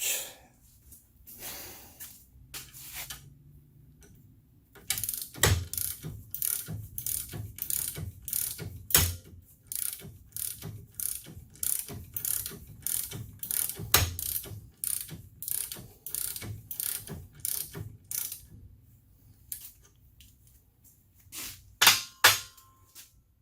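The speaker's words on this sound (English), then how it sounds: "Get my ratchet." Ratchet wrench working on the upper strut mount of a 2012 Chevy Cruze, a long run of rapid, evenly spaced clicking strokes in bursts, close and crisp, with brief pauses and a few louder clanks near the end.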